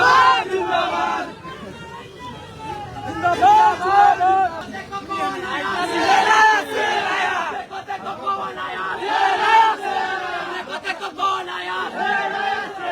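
A large crowd of supporters at Thawe in Gopalganj, chanting slogans together. The massed voices rise and fall in loud, repeated waves, with shouting and babble running steadily throughout.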